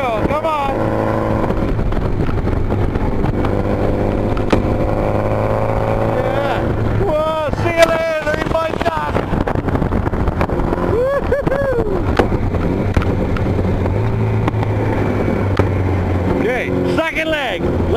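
A Honda-engined dune buggy and a VW-engined dune buggy race along a farm airstrip, with a constant loud engine roar, rising and falling revs and passing pitch sweeps, while people shout and cheer over them.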